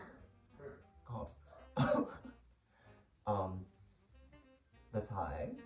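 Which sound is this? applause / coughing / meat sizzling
coughing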